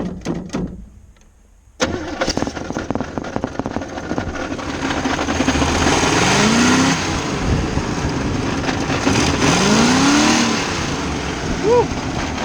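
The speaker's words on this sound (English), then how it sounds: "Motor runs not that great, but it still runs." An old 1980s demolition derby car engine cranks, catches and roars, revving loudly in rising and falling surges with a rough, uneven running sound, close by.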